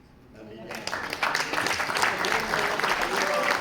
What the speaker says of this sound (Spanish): no me puedo ir de aquí sin pedir también que aplaudamos a esta gran mujer